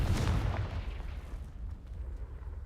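A Confringo fire spell cast at dry vines in Hogwarts Legacy, a single loud deep burst with a rumbling, crackling tail that fades over a couple of seconds.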